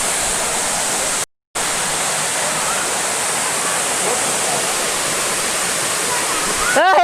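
Rapur waterfall pours in a loud, continuous rushing roar, steady and close, with only a brief dropout partway through.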